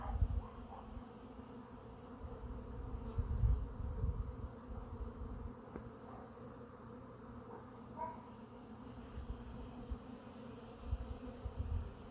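Honeybees swarming in the air at a hive entrance after days of rain, a dense, continuous buzzing hum that swells now and then as individual bees pass close, heard alone without voices.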